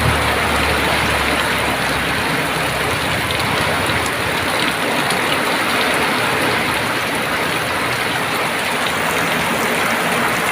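Heavy rain pours down steadily and loudly, a dense continuous roar of water hitting surfaces with no break throughout.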